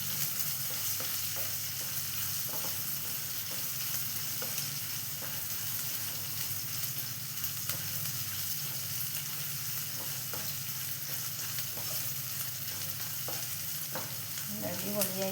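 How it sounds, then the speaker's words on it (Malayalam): Onions sauté with turmeric in a pan for idli upma, giving off a continuous, even frying hiss with faint stirring scrapes over it. "അപ്പോൾ ഉള്ളി ഒന്ന് വഴന്ന് വരണം. അപ്പോൾ നമുക്കതിലേക്ക് കുറച്ച് മഞ്ഞൾപ്പൊടി ഇട്ട് കൊടുക്കാം."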